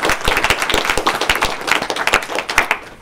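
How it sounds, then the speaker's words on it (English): Audience applause for presenters at an offshore wind energy symposium, a steady patter of overlapping claps with sharper individual hand claps standing out, fairly close and moderately loud, lasting throughout. "Another round of applause for all of our presenters."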